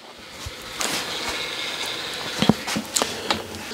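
An N scale model train locomotive running along a layout, a light rolling hum close by with several small clicks and ticks as it crosses the track.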